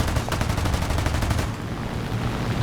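Rapid aircraft machine-gun fire strafing a Panzer tank in War Thunder, a dense rattling burst of shots over engine drone that cuts off about halfway through, leaving a steady roar behind.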